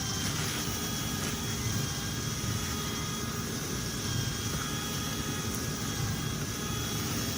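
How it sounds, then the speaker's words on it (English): A dryer vent cleaning blower running, a loud steady roaring whoosh that holds constant throughout without breaks or voices. "you should start to hear the blower get louder"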